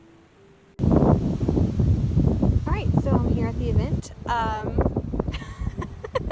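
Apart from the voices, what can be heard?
wind blowing outdoors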